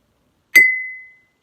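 One close tap of a spoon on a second drinking glass makes a bright ding. A pure ringing tone follows and decays within roughly half a second, with no other sound around it.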